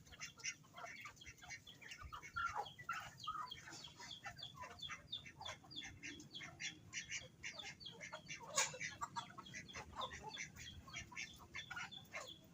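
Pet ducks and native chickens at feeding time, a busy chorus of overlapping clucks, quacks and chirps close by, with occasional wing flaps and rustling, continuous throughout.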